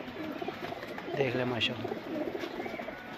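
High-flyer pigeons coo softly close by, under a man's speech and faint background noise.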